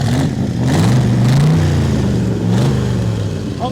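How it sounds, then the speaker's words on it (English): A 1965 Corvette, recovered as a stolen barn find, revs its engine up close: a loud, continuous low rumble that swells and eases in pitch over a few seconds. "Okay, rev the engine."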